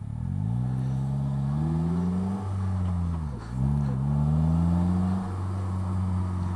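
A Polaris Slingshot's engine revs steadily while driving, its pitch rising and falling in smooth sweeps with a brief dip mid-way before climbing again, loud and close with no talk.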